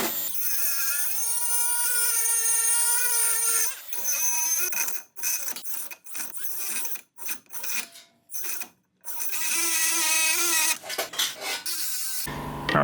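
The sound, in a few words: power tool cutting webbing out of engine part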